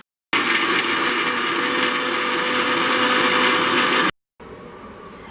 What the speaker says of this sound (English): we will blend this into a smooth paste